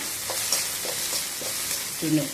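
Brief crackling sizzle of garlic cloves frying in hot oil, close and steady with a few small pops.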